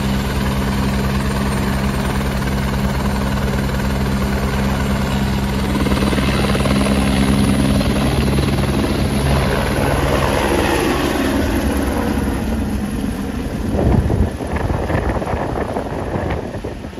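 A helicopter ride over Gulmarg, Kashmir, heard from inside or right beside the aircraft: a loud, steady rotor and engine roar with a rhythmic low thump and wind rush runs unbroken throughout.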